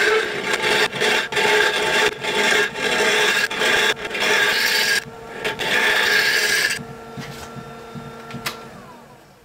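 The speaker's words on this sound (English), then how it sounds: "using our finisher, we can turn the bottom of our box and then sand it just like we did the rest of it" Sandpaper rubs against the bottom of a small wooden gift box turning on a finisher, a loud rasping scrape in repeated strokes with short pauses, fading to quieter rubbing at the end.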